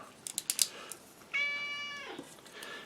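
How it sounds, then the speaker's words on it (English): A pet cat named Cubit gives one drawn-out meow in the background, faint and somewhat distant, following a few quick tapping clicks and then trailing off into room quiet. "apologies if you can hear Cubit the cat in the background"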